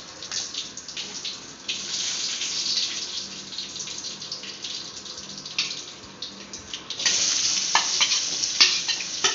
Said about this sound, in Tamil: இப்போ ஒரு தாளிக்கிறதுக்காக ஒரு கடாய் வச்சு கடுகு சீரகம் போட்டிருக்கேன்.